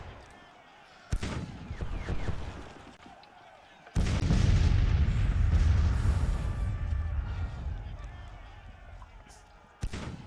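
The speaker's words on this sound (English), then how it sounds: "You boys lay down for right now so we don't take too much artillery damage" Artillery booms from a Civil War battle in the strategy game Grand Tactician: The Civil War, with a heavy blast landing midway and a loud rumbling roll after it, plus another sharp report at the end, under faint speech.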